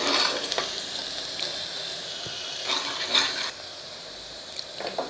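Sliced onion fries with curry leaves in a hot pan for a drumstick curry, giving a steady, close crackling sizzle with a few louder bursts of spitting and no voices.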